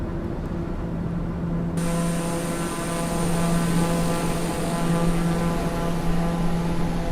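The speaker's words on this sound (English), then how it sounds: "So it's got such a powerful turboprop, it's almost as fast as a jet." Steady drone of a TBM 930 turboprop plane in cruise flight in the Flight Sim World game, its engine hum and propeller tones continuous and loud with a small rise in level partway through, no voices.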